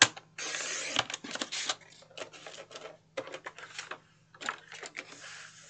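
Scissors or a paper trimmer cutting through file folder card stock, a series of crisp, rapid rasping cuts in short bursts with brief pauses, close and fairly quiet over a steady low hum.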